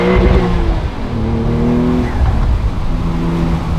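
A 2025 Porsche 911 Carrera T with manual gearbox accelerates hard in first gear, its engine note rising loudly and steadily with a rich, close rumble and no talking.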